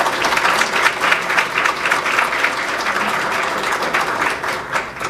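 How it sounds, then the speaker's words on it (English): A crowd gives an elementary school award winner a round of applause, with dense, steady clapping from many hands that stays loud and even throughout, with no talking over it. "Let's give her a round of applause."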